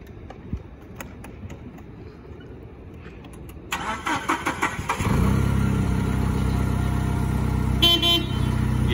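A HAMECH G25T-16 5,000 lb propane forklift starts up and then runs steadily and fairly loud during a test drive, after a few quieter clicks and knocks.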